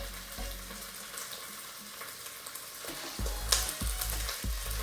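Sage, tarragon and other aromatics fry in a pan for roast chicken stock, a close crackling sizzle that swells louder midway with a few spoon knocks and stirs, no voices present.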